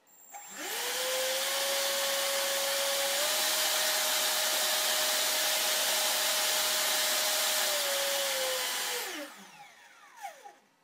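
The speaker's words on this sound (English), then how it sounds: "I can turn on the fan with this and adjust the speed." A cooling fan on a ShapeOko 2 CNC machine is started with a servo tester speed controller. It spins up to a loud, steady whine with a constant tone that steps up partway through, then winds down, with faint clicks at the end.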